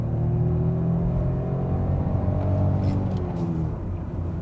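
A Peugeot 208 Style 1.0 engine revs steadily from inside the cabin, a continuous moderate drone climbing through the gears with no talk over it.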